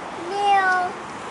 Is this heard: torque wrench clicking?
no